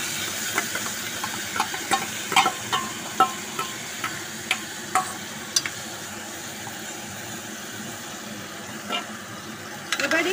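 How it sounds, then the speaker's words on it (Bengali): Coloured rice goes into hot oil with bay leaf and cardamom for basanti pulao, giving a steady frying hiss broken by scattered sharp pops and crackles. "এবার আমি ওর মধ্যে দিয়ে দেব রং মেশানো চালটা।"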